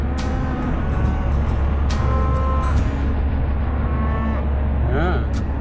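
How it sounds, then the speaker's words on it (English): Several cattle on their way to market in Montana low and moo over a steady rumble of traffic, with a few calls rising near the end. "looks like cattle's going to market"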